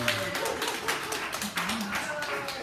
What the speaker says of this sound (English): So a round of applause for our poets.